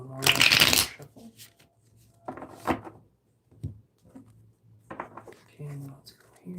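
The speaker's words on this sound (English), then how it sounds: "do one more shuffle." A deck of tarot cards shuffled by hand, a strong opening riffle then softer repeated shuffles, with quiet speech in between.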